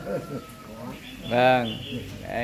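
Birds call in a Vietnamese ornamental-plant garden in Lục Nam: a brief cooing call and a thin whistle-like note, heard under people talking nearby.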